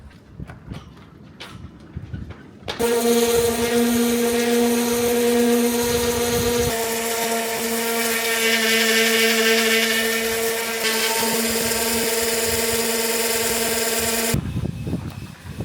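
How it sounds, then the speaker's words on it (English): A loud power sander whines steadily for about twelve seconds on a sailing boat's hull, with a droning motor tone, starting abruptly and cutting off near the end. "Can't say sanding the hull of a boat is my favourite job."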